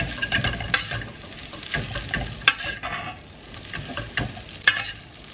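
Singaporean noodles are stirred with effort in a frying pan, giving uneven clattering scrapes at a busy, irregular pace over a low frying sizzle, close and without speech.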